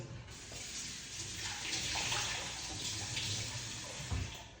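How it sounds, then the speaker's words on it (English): Water running out of a tap or vessel while preparing a detox drink, a soft continuous splashing flow that swells in the middle, fairly faint and close, with a small knock near the end. "When you see water come out of it like that."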